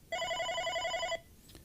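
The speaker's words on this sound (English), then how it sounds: "for deflecting a call, you wait for the call to start ringing" An OpenStage 15 desk phone rings with an incoming call, a single clear electronic trill of steady pulsing tones lasting about a second, loud and close, then cutting off into quiet room hiss.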